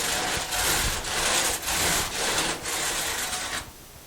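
A wire brush on a long drilled handle scrubbing a rabbit cage, rhythmic back-and-forth rasping strokes about twice a second, loud and close, stopping just before the end with no talk.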